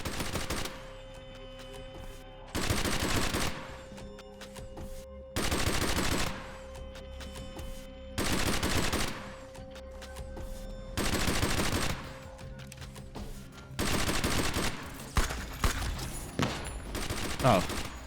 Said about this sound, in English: And now they've got guns as well.